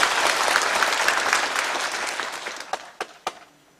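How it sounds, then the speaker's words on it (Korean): Dense applause from an audience at a parliamentary forum in Korea, loud at first and thinning out over about four seconds, ending in a few scattered, separate claps. "뜨거운 박수 부탁드리겠습니다"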